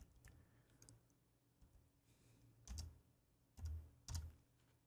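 Quiet computer keyboard typing, a few scattered soft keystrokes followed by three louder, separated clusters of clacks close to the microphone.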